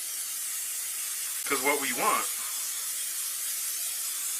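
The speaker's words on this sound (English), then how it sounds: "Spray. Yes, we're going to spray." Cooking spray hisses steadily into a cooking pot, a broad continuous spray throughout, while a voice briefly speaks over it partway through.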